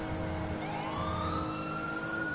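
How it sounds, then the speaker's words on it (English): A rising wail of a police siren in a video game swells over a steady engine rumble, loud and continuous, sounding close. "Sirens are getting closer."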